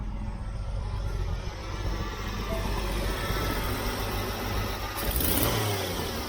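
Jeep CJ-7 engine idling steadily at close range, a continuous low rumble with a slight even lope throughout, no talking.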